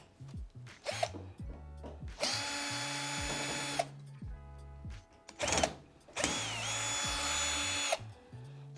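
Power drill backing screws out of the rear and top panels of a Fisher Paykel tumble condenser dryer, several separate bursts of whirring each lasting about a second or two, loud and close with short pauses between them.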